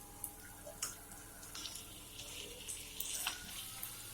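Chicken pieces going into an onion-tomato masala frying in oil, giving a steady close sizzle and crackle with a few sharper pops and spatters throughout.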